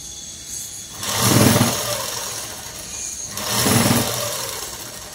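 A sewing machine stitches dress fabric in two steady whirring bursts of about a second each, separated by a short pause, close and moderately loud with no voices.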